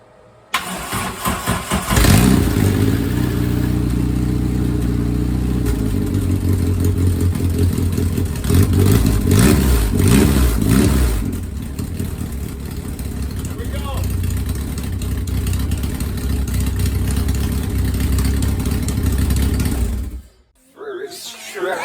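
Car with a swapped-in engine cranking and catching, then running with a rough, clattering idle for most of the stretch before cutting off, loud and close, while people talk in the background.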